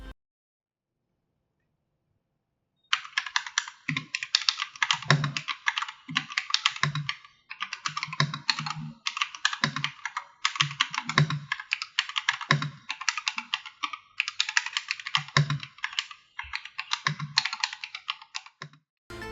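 Rapid, clacky typing on a G68 65% mechanical keyboard, close and steady, with brief pauses between bursts of keystrokes.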